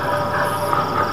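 A train rolls along in a steady, loud, continuous rumble with a faint metallic whine and no distinct clacks, heard up close with no talking over it.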